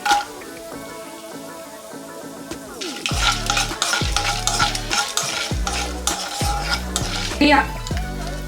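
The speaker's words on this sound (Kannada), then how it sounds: "ಎಣ್ಣೆ ಕಾದ್ಮೇಲೆ ಇದಕ್ಕೆ ಅರ್ಧ ಸ್ಪೂನಷ್ಟು ಸಾಸಿವೆ, ಕಡಲೆಬೇಳೆ 2 ಸ್ಪೂನು, ಗೋಡಂಬಿ ಒಂದು 10 ಪೀಸು" Mustard seeds, chana dal and about ten cashews fry in hot oil for curd upma, a quiet start giving way to crackling sizzle and repeated metal spoon clanks against the pan, close by.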